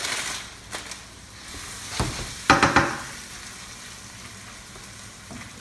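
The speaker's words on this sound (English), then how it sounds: "And just stir like that, mix everything so the pasta doesn't get stick inside the pan." Pasta and zucchini get stirred in a frying pan, with a soft sizzle beneath a few scraping and clattering strokes of the utensil, the loudest cluster near the middle, close up and without talk.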